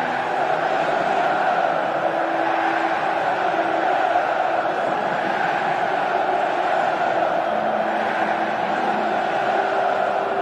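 Corinthians supporters massed in a Brazilian football stadium, a steady dense roar of crowd chanting and singing that holds at an even level throughout, with no single voice standing out.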